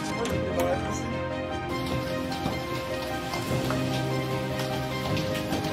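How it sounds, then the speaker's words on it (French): Hail patters and rattles steadily on surfaces nearby, a dense sound of small impacts. "La grêle, de la glace qui tombe du ciel."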